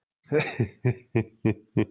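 A run of six short, harsh coughs in quick succession, evenly spaced and close up, with no talking.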